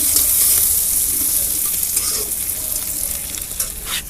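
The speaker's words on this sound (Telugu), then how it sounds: "ఇప్పుడు మంచిగా వేగనిద్దాము" Nalleru leaves frying in a pan over a strong flame as their water cooks off: a loud, bright, continuous sizzle with brief stirring scrapes, easing slightly toward the end.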